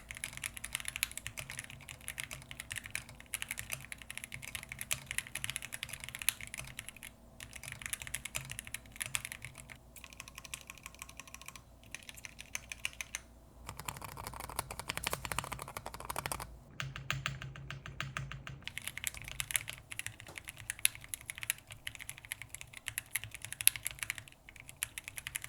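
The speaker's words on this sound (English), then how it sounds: "Let's do a typing test." Steady typing on a Das Keyboard DeltaForce 65 mechanical keyboard with slightly rattly stabilizers, a dense run of close, crisp keystroke clacks lasting the whole stretch with only brief pauses and no talk.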